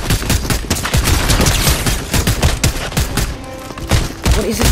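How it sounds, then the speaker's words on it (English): Gunfire in the Fortnite video game during a Halloween event: dense, continuous bursts of shots crackling close and loud for nearly five seconds, with rapid overlapping reports and no talk. "I'm already getting shot at."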